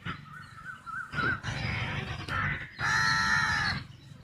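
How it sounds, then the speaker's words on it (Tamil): A crow caws in a run of harsh, drawn-out calls, close and fairly loud, with short gaps between them and a faint low rumble underneath. "காக்காவும் கத்த ஆரம்பிச்சிச்சு"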